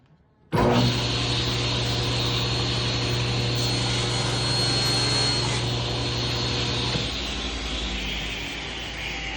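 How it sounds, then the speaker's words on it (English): A power saw rips a 3-inch cut through wood while refacing a rip fence, starting abruptly with a loud, steady whine that holds for about six seconds, then drops to a lower, fading run-down hum. "let's make a 3-inch cut now"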